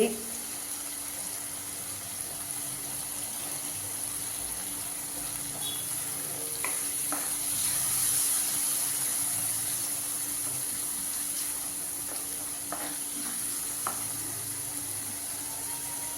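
A green chili dropped into hot oil in a pan for egg curry gives a steady, fairly loud sizzle that runs the whole time, with a few faint clinks and no talk.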